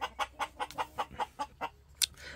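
Ameraucana chickens on a small weekend farm cluck in a quick regular series of about ten close, clear notes, ending with a sharper higher squawk.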